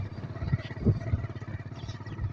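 Motorcycle engine labouring along a narrow, dangerous footpath, a steady mid-pitched rumble with some clattering, close and moderately loud throughout.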